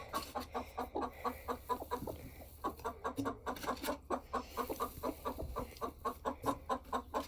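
A hen clucks steadily in quick, rhythmic bursts, close by, with a brief pause partway through before the clucking resumes.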